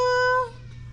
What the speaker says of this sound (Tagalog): Tignan niyo yung alaga natin na pusa oh.